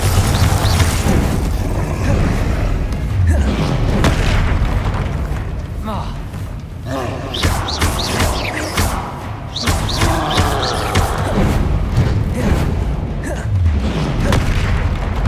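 Spell blasts, booms and impacts boom repeatedly through a busy Hogwarts Legacy fight with trolls, loud and dense over game music, with voiced spell incantations shouted throughout.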